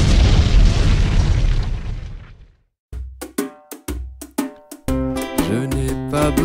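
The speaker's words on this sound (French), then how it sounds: "je prends feu et j'explose" A loud, rumbling blast booms and fades away over about two seconds, followed after brief silence by a run of sharp percussive hits and music.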